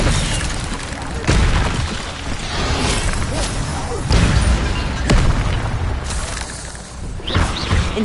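Spell blasts from Expelliarmus cast during combat in Hogwarts Legacy, heard as repeated loud booming impacts with bursts and crashes, a voice calling out spell names over the busy battle noise.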